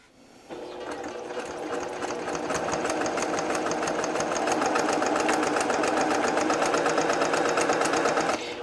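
A sewing machine stitches along a zipper, starting abruptly and running in a fast, even mechanical rhythm that speeds up slightly and holds steady, close and clear with no talking.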